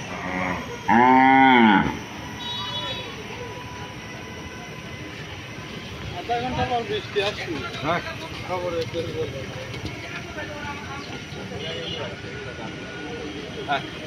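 Cattle at an outdoor cattle market, one loud close moo near the start, followed by a busy crowd of talking voices and a rumbling, clattering din.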